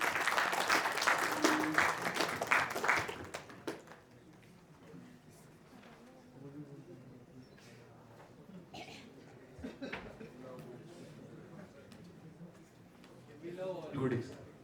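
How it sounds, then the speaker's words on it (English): Audience at an AWS Community Day tech event in Vadodara applauds a speaker being felicitated on stage: dense clapping for about three seconds that fades, followed by quiet room murmurs and brief talking. "Everyone, big round of applause"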